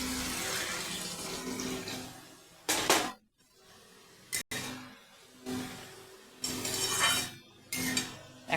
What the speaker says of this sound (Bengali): এখন আমি পরিমাণ মতো জল দেবো।